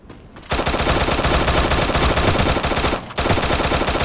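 Loud, dense MP5 automatic fire in a shooter video game, a continuous rattling burst broken by one brief pause before the shooting resumes.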